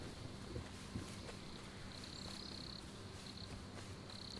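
Bees buzzing in the survival video game Smalland: Survive the Wilds, a faint steady hum with intermittent whining drones over soft outdoor ambience and occasional light clicks.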